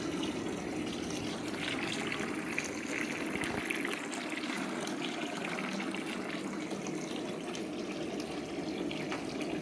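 Water from a barn water heater pours steadily into buckets, a continuous broadband rush and splash that stays loud and even throughout with no talking.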